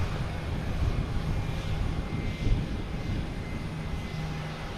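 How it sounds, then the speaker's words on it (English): A Swiss Air jet airliner taking off on runway 9 at Boston Logan Airport, heard as a steady, broad, distant roar of engines that holds level throughout with no voices. "Swiss Air taking off on runway 9."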